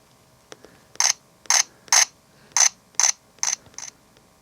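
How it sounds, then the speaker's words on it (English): Canon R3 camera firing its shutter eight times in a steady, evenly spaced series of crisp mechanical clicks, close and fairly loud, with no talking. "you can go in here and adjust the volume of your shutter"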